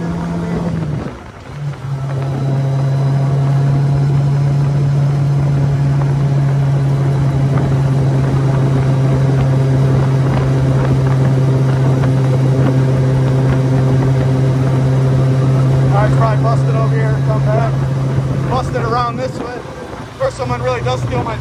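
A Campagna T-Rex three-wheeled motorcycle's engine hums steadily through a ride, a sustained low drone with wind buffeting, the rider and passenger talking over it.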